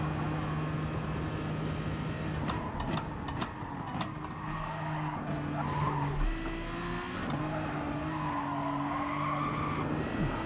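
A Honda NSX race car in Gran Turismo Sport squeals its tyres through corners, with wavering engine tones rising and falling over a steady game mix, all moderately quiet.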